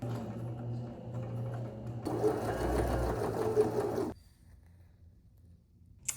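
A sewing machine bastes layered corset pieces of cotton twill with a close, steady whirring stitch that runs for about four seconds, speeding up midway, then stops into a quiet room.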